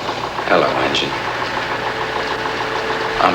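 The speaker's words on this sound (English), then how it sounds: "Hello, engine." A ship's engine idles with a low, steady mechanical chug and knock, heard as a film scene plays out. It stays moderately loud throughout, with faint voices or incidental sounds rising briefly over it.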